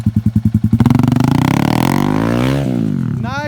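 A motorcycle engine on stunt practice at a Delhi bike stunt academy putters in quick pulses, then rises into a loud, sustained rev close by before dropping off.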